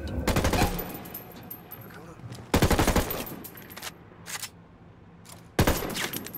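Bursts of automatic gunfire and explosive blasts from a co-op firefight in the Ghost Recon Wildlands video game, with mortar fire, coming in three loud volleys separated by quieter stretches of combat noise.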